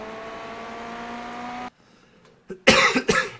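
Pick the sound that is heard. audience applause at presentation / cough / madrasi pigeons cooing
cough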